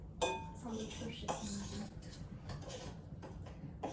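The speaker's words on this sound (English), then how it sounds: "We can stir any way we want to as long as it stays in the bowl." A spoon stirring a flour mixture in a bowl, heard as irregular scraping and light clinks against the bowl, with voices talking at times.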